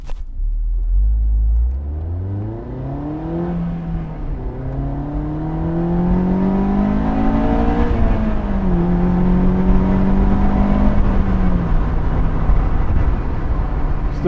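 A 2005 Honda S2000 roadster driving with its top down accelerates through several gears, engine note rising steadily then dropping at each shift, close and loud with open-air wind noise and no talk.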